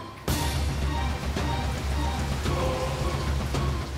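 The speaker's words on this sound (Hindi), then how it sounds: "बहुत तेज बारिश हो रही है।" Heavy rain starts abruptly and pours down steadily, a dense hiss of drops drumming on surfaces.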